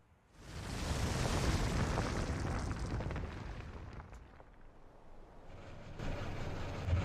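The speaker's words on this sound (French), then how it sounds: "Quelle était cette explosion?" A deep, rumbling explosion in the Yo-kai Watch video game builds quickly into a long, roaring blast that rolls on for several seconds, dips, then surges again near the end.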